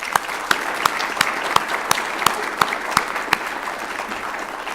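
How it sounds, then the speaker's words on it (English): Evening ceremony audience applauding the speakers at a laboratory rededication, steady dense clapping with sharp individual claps popping out, moderately close, no talk. "If we could give them one more round of applause"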